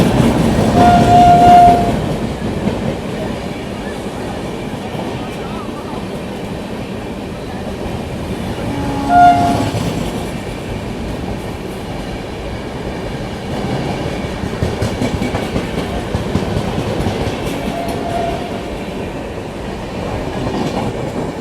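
The New Delhi–Darbhanga clone train overtakes alongside with a continuous low rumble of wheels and wagons, while a faint horn sounds briefly near the start and again partway through. No one speaks.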